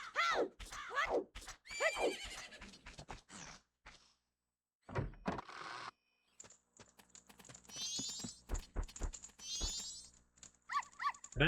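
The horse Epona whinnies repeatedly in a video game amid game effects, thumps and clicks, with short quiet gaps between bursts.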